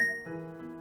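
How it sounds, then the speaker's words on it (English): A short chime jingle from the video game Corpse Party, a bright ringing tone that quickly settles into a sustained, layered shimmer, heard alone and fairly faint. "That sounded like a Zelda sound effect."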